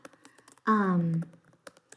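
Computer keyboard typing, light scattered keystrokes at close range on either side of a short held spoken sound in the middle.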